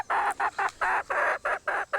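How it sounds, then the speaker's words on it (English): A farm rooster calls in a quick run of about nine loud, clipped bursts with short gaps between them, close to the microphone and with no talking. "there's your rooster crowing."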